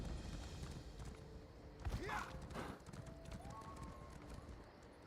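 Horse hooves clip-clop in the Elder Scrolls Online video game, a faint steady rhythm of footfalls with a brief whinny-like sweep and a thump partway through, low in the mix.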